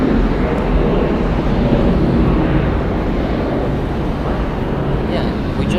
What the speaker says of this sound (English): Departing Delta Airlines flight 648 going to Asheville. It is a Boeing 717.